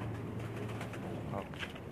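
Soft pigeon cooing inside a rooftop coop, low and steady murmurs layered over a faint background hum, quiet and close with no clear voices.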